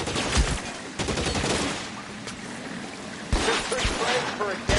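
Rapid gunfire bursts crackle in the L.A. Noire video game, sharp repeated shots mixed with someone shouting over them and a trickling, pouring background.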